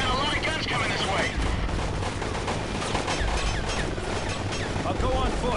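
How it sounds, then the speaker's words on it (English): Dense small arms gunfire in Delta Force: Black Hawk Down, a continuous loud clatter of rifle and machine gun shots with booming impacts, while voices shout over the battle. "We're taking small arms fire."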